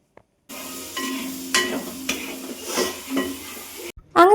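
Ground cashew paste pours into a pan of sizzling chili and onions while chicken curry cooks, with a steady frying hiss, a few sharp scraping stirs and a brief clatter at the end.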